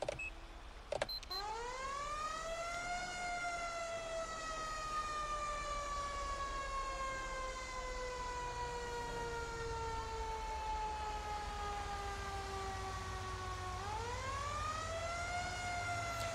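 A fire engine siren wails steadily from a Grapeseed Fire Department engine responding in the GTA 5 firefighter mod. The tone rises, holds a long slowly falling sweep, then climbs again, loud and continuous with no talk over it.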